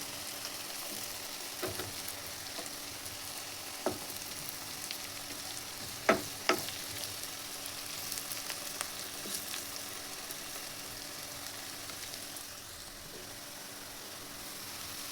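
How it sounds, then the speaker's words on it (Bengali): Chopped onions sizzle in hot oil for achari chicken, a soft steady frying hiss with a few sharper stirring knocks midway. "দিয়ে দিলাম পেঁয়াজ কুচি। পেঁয়াজটা লাল হওয়া পর্যন্ত ভেজে নেব।"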